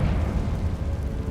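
A Confringo blasting spell explodes in the video game Hogwarts Legacy, giving a deep rumbling boom that fills the short moment and holds steady without fading, with no talking.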